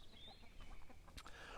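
Chickens cluck softly in a yard as they are let out, with faint scattered clucks over steady low background noise.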